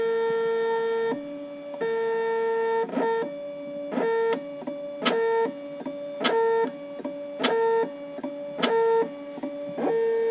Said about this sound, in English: it is now going to start cutting the second side of the key